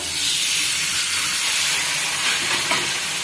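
Millet thalipeeth, a thin patted flatbread, sizzles on a hot griddle greased with a little oil, giving a steady, loud broadband hiss that carries on without a break and with no voices.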